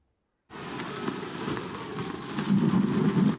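Rain pours in suddenly with a deep rumbling roar like thunder underneath, steady and loud until it cuts off.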